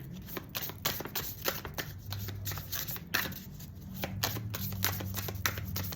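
Spellcasting oracle cards being shuffled by hand, a steady run of crisp, rapid riffling flutters that carries on close and soft for several seconds, with no voices.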